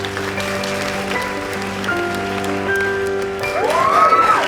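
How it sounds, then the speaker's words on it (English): A school assembly audience applauds in a steady, dense wash of clapping that swells slightly toward the end, with sustained tones running underneath. "Bigger applause than I expected there."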